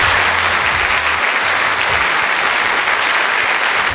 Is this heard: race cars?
no